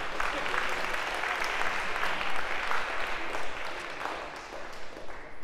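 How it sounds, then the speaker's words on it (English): A lecture-hall audience at a computer science class applauds steadily for several seconds, a dense, even wash of many hands clapping at close range with no one speaking over it. "round of applause, sure."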